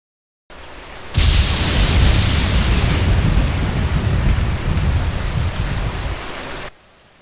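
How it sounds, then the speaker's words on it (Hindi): Heavy rain pours steadily and loudly, a dense broadband roar that starts abruptly and continues without break before cutting off. "घनघोर बारिश हो रही थी।"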